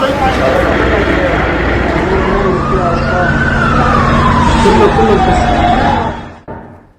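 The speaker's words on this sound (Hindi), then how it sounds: "एम्बुलेंस लगाई गई है" An ambulance siren wails in a single slow rising and falling sweep at a Lebanese strike site turned to rubble, set against a dense, noisy background, before fading out near the end.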